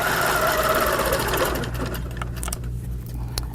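A sewing machine runs steadily, stitching a loop along a mini oval ruler, with a close, even mechanical whir that slows and quiets toward the end, where a few light clicks follow.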